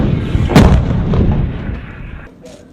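M777 light towed 155mm howitzer firing a single loud, close blast that booms sharply and then rumbles and decays over a couple of seconds.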